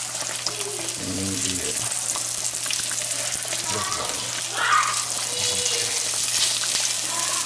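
Crab cakes frying in a pan with a continuous close sizzle and crackle, faint water-like hiss and a low steady hum underneath.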